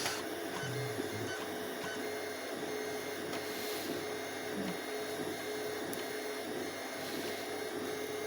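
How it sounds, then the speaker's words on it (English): An Anycubic 3D printer at work, giving a steady mechanical whir with faint stepper-motor tones and small shifting movements throughout, fairly quiet and continuous with no voices. "But it seems to be printing actually quite well."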